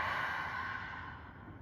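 A long, breathy exhale through an open mouth during a yoga session, close and steady for the full length, slowly fading, with no talk.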